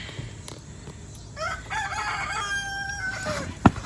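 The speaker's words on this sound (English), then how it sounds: "You know how my chickens are." A rooster crows in a long drawn-out call, with soft clucking of backyard chickens around it and a sharp knock near the end.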